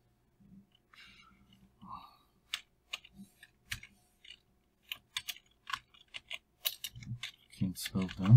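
Fingers tap on a computer keyboard in scattered, irregular keystrokes, close and fairly quiet, with a burst of quicker typing toward the end.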